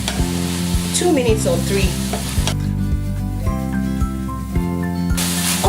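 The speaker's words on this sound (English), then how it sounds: "I'm going to just go ahead and stir fry that just for about" Onions sizzling and being stirred in a hot frying pan, a steady loud crackle with scraping stirs throughout while a voice speaks briefly over it.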